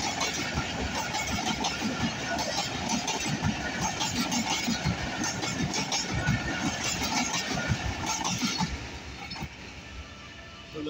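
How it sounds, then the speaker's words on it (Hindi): The 149 Up Mehran Express, hauled by a GHGMU-30R locomotive, passes Drigh Colony Junction with a loud, steady rumble and rattle of wagons that fades abruptly near the end. "तो दोस्तों अभी आपने देखा 149 मेरान एक्सप्रेस का पास।"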